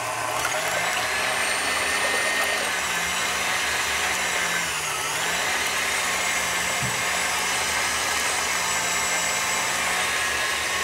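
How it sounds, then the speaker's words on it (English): Electric mixer beating egg whites with sugar in a kitchen, a loud, steady motor whine that runs throughout, its pitch dipping slightly now and then as the beaters work the mixture. "You can beat your eggs, of course, by hand, but here, with the help of the machine, it makes it easier."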